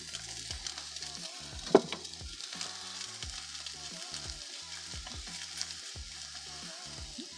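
Pork sizzling in a frying pan with garlic, cooked in a garage, a steady crackling fry with occasional pops and a faint stir or clink, heard alone without talk.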